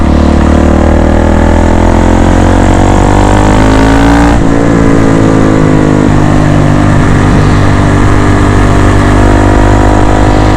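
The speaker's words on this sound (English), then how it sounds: "I love the sound of your engine braking." A loud KTM 690 SMC-R motorcycle engine rumbles steadily close by, its pitch sliding down as it engine-brakes, with a brief shift in tone partway through.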